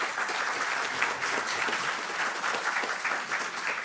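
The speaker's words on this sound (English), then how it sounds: "So please join me with a round of applause" Soft, even applause from an audience welcoming a keynote speaker onto the stage at a mental health conference, a continuous patter heard from a distance, fairly quiet throughout.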